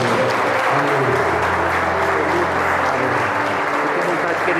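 A church congregation applauding loudly, a thick, continuous roar of clapping that holds steady for the whole stretch, with voices mixed into the crowd noise.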